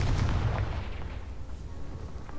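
A Confringo spell blast in Hogwarts Legacy during a goblin camp fight, a heavy low booming rumble that rolls on and slowly fades, mid-loud with no speech over it.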